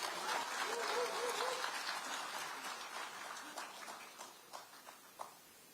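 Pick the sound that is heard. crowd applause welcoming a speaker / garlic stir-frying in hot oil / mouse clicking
crowd applause welcoming a speaker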